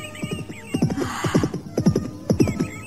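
A horse whinnies and neighs in a rough, repeated series of calls, loud and close, with faint clip-clop beneath.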